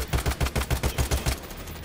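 Rapid automatic gunfire aimed at police in Payday 3, about nine evenly spaced loud shots in quick succession, then stopping with lingering background noise.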